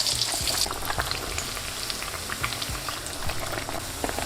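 Frozen hash browns fry in hot oil with a steady, close crackling sizzle. A louder burst of spitting comes right at the start, then it settles into continuous bubbling with scattered pops, and no one speaks.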